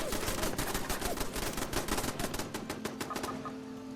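Turrets fire rapid automatic bursts in Fallout 76, a loud close stream of sharp repeated shots that tapers off near the end.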